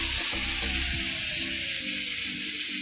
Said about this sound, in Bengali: আর কষানো হয়ে গেলে এবার জলটা দিয়ে দেবো।